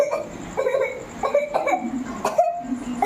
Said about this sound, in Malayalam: ഓ ശരിയാ, ചുമയാണോ?